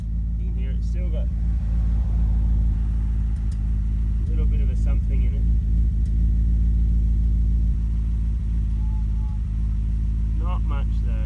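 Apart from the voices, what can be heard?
1995 BMW 730iL E38 exhaust idling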